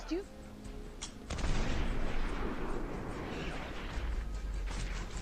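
A sniper rifle shot fired from about 4 km away at the Russian President in a Hitman film, heard as a sharp report followed by a dense, loud rumbling wash of sound that lasts several seconds.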